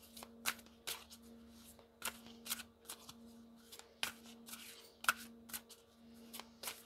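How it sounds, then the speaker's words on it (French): A deck of oracle cards being shuffled by hand, a quiet series of crisp riffling flutters and taps repeating roughly every half second over a faint steady hum. "Alors, on va mélanger."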